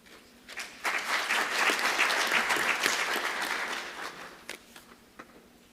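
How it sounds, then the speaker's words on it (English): A conference audience at Africa Engineering Week applauds a presenting engineer, the clapping swelling quickly to a full, steady roar, then thinning into scattered claps as it fades. "ladies and gentlemen, a round of applause"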